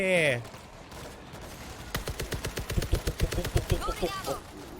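Rapid automatic gunfire from the video game World War Z, a close burst of evenly spaced shots lasting a couple of seconds, with a voice heard briefly before and after.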